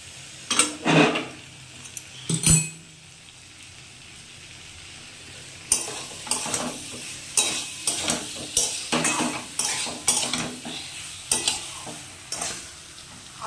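Potatoes and pointed gourd going into fried spices with prawns in a pan: scattered spatula scrapes and clanks against the pot over a low sizzle, with a few sharp knocks early and busier stirring in the second half.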